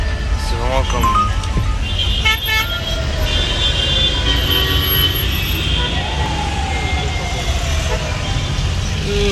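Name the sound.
car horns honking in Egyptian traffic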